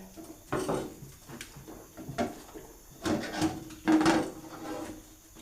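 Dishes scrubbed with a scouring pad make several separate rough scraping strokes, close and moderately loud, coming in uneven bursts with short quiet gaps between them.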